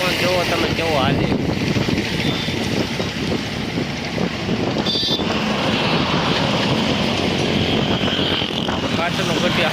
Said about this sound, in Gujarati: પવન જોવો તમે કેવો હાલે